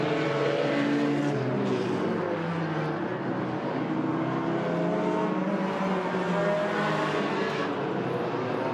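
Race cars lap Agassiz Speedway during an enduro race, with engines droning continuously at a moderate distance as cars pass and rev in a steady wash of track noise.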